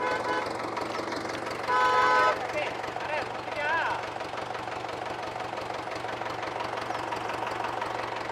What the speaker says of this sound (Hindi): ये देखो यहाँ पे ट्रैक्टर आ चुका है